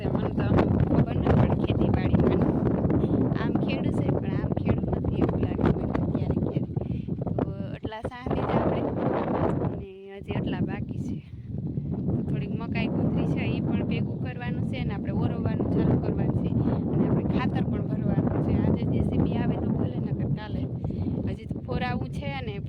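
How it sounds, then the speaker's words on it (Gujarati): Constant wind buffeting a microphone outdoors, roaring steadily with brief lulls, while a person talks over it. "પવનનો અવાજ આવતો"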